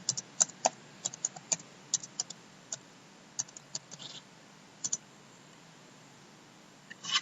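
Computer keyboard typed in short bursts of crisp clicks during Java programming, keystrokes irregular with pauses, close and moderately loud against a quiet background.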